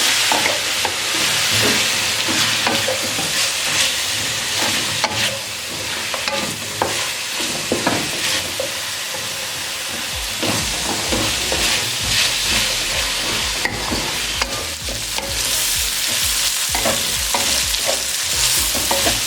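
Chicken Hakka noodle ingredients frying in a pan with soy sauce, a loud continuous sizzle and hiss with frequent scraping and stirring knocks throughout, close and without talking.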